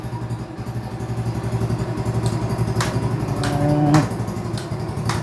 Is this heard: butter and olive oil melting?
no